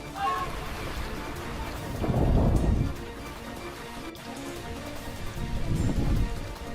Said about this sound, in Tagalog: sa kabila ng malakas na ulan at baha